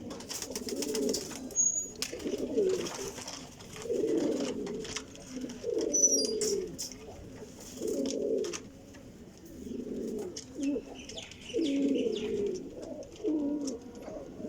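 A group of golden pigeons coos in a steady, rhythmic series of deep, rolling calls close by, repeating every second or so over a quiet background.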